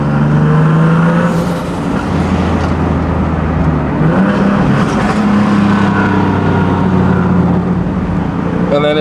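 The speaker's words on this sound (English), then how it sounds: "You cannot beat that flutter." Turbocharged Nissan VQ engine car with a loud, steady engine drone and turbo flutter running close and continuous throughout, no talking.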